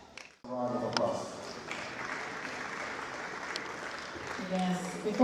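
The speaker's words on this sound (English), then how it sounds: "Round of applause." A crowd at an awards and business summit breaks into applause after a brief pause, sustained clapping carrying on under faint voices and background music tones, swelling slightly at the end.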